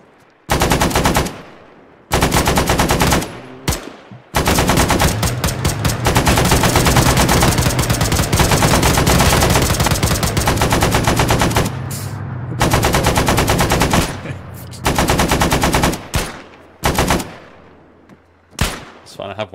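Automatic rifle fire in the Arma 3 video game during urban fighting in Zargabad, with long loud bursts and single shots broken by short pauses, sharp and close, with occasional voices in between.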